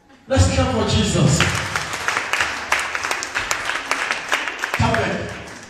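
Church members clap for Jesus: after a brief quiet start, steady clapping rises and carries through under loud voices and sung tones from the congregation, then thins as the voices continue.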